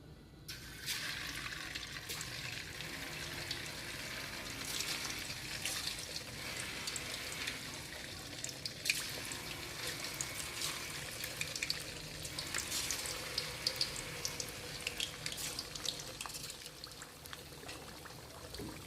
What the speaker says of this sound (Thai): น้ำมันร้อนก็นำเต้าหู้ลงไปทอดเลยค่ะ